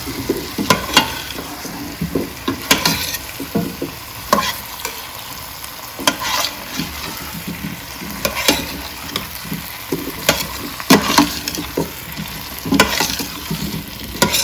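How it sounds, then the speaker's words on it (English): Chopped potatoes and carrots stirred in a cooking pot for an oxtail stew, with repeated rhythmic scrapes and clanks of the spoon against the pot over a soft background hiss, close and fairly loud, no talking. "I'm gonna put them in there. Give them a stir."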